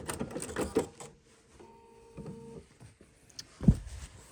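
Home sewing machine stitching a quilt-as-you-go embroidered Hawaiian wall hanging, a short steady mechanical run in the middle between louder handling thumps and rustles of fabric, close and fairly quiet.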